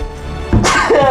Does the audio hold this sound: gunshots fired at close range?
no